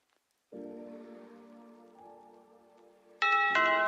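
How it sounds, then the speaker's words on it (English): A timer bell marking the end of time in a live draw-along session gives a sustained ringing chime that fades gently, then a much louder, brighter ringing burst near the end, with no voices. "And that's the bell for time."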